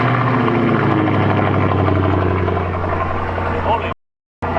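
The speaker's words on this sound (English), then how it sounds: "This is a cold startup on an E55 AMG." A Mercedes E55 AMG engine cold-starts and settles into a loud, steady, deep idle that drones close by for about four seconds before cutting off abruptly.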